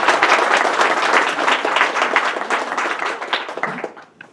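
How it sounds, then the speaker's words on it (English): A crowd applauds steadily, dense clapping that holds for several seconds before gradually thinning out, with no talking over it. "So let's give them a round of applause."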